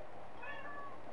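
Several cats meow in Minecraft, a cluster of short, fairly quiet in-game mews heard alone without talk.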